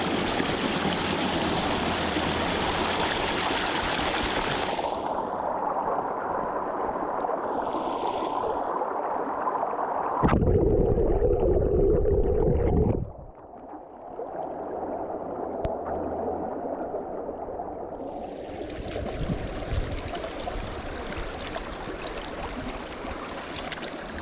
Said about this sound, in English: Such a beautiful sound to wake up to, running water.